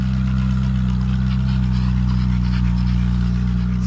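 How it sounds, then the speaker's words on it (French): Ferrari engine running hot, a steady deep low rumble with a strong even drone and slight swells like light throttle blips, close and loud with no talking. "les coups de gaz qu'il met, elle a chaud au cul, la titine"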